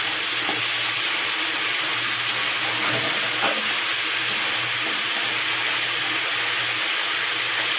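Fish with spices and vegetables being fried down in a pan for a Bengali fish dish, a steady, close sizzling hiss that carries on without a break and with no voices.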